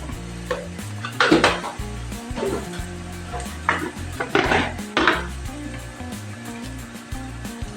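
A spoon scrapes and clinks against a pan as chilli and turmeric powder are stirred into fried onions, with irregular metallic knocks in bursts over a faint sizzle.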